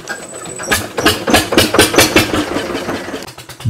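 A motor boat engine runs steadily just after starting at Lalganj, with a pulsing, rhythmic chug that swells in loudness and holds fairly close throughout, with no talking.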